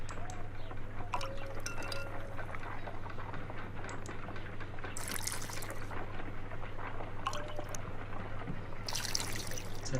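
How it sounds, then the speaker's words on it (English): A pipette filling a glass test tube with liquid in a Sherlock Holmes video game, with soft trickling and small glassy clinks over a steady low hum, faint and close, no talk. "Let us use a pipette to take a sample of the liquid and fill a test tube"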